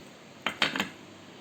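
Small steel bowls from a serving set are handled, giving three quick close metallic clinks in a short burst, then quiet.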